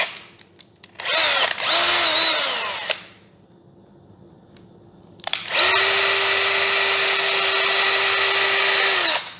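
Power drill spinning up to tighten its chuck, two close, loud whirring bursts with a pause between, the second longer and steadier at full speed.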